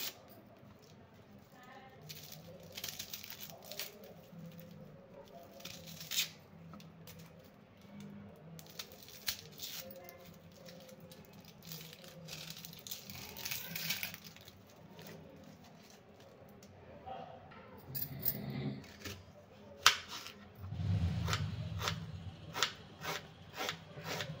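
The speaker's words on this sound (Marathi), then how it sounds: "चला तर आता कांदे कापून घेऊया" A knife finely chops onions on a board with quick runs of soft, close taps and scraping strokes, broken by short pauses. A louder scraping and shuffling comes near the end.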